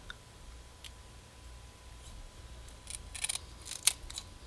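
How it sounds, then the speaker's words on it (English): Kitchen scissors snip the sharp part off a raw shrimp head, giving several faint, crisp clicks and cuts that cluster toward the end over a quiet background hum. "I also like to cut the sharp part of the head here as well."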